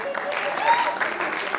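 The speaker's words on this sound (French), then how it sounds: "Non, mais applaudissez pas ça, merde!" A theatre audience at a French stand-up comedy show bursts into short, dense applause, clapping steadily at moderate distance for a second and a half.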